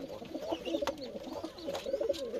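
Pigeons coo in a coop in the evening, several birds layering soft, throaty calls in an overlapping, continuous murmur at close range, with no talking.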